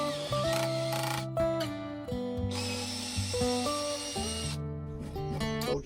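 A power drill whines and bogs down in bursts drilling a wooden mantelpiece clamped to a saw bench, its pitch rising and dropping as it labours, loud and close with no voices.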